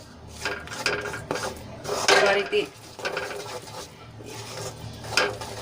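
A spatula scrapes and clinks rhythmically against a pan while stirring flour as it roasts for sukhadi, with repeated close, uneven strokes and a faint sizzle underneath.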